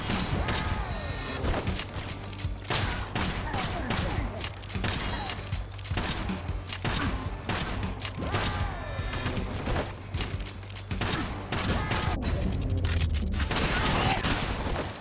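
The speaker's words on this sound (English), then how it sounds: "try to herd them together and shoot them all at once" Gunfire in the video game Kill the Crows, dense rapid shots and crashes packed over a steady game soundtrack, loud throughout, with a voice talking now and then.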